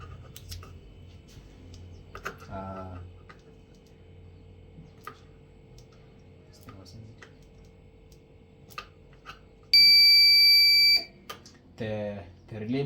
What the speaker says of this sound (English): the relay module sends a signal to the buzzer